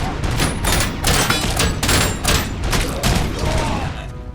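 Loud, rapid gunfire in the video game RoboCop: Rogue City, with repeated close bursts of shots and impacts running through the whole stretch.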